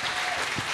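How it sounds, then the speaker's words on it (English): A crowd applauds at a women's rugby squad announcement, a short burst of dense, fairly close clapping with no pauses. "Let's give Vicky and Maxine a massive round of applause"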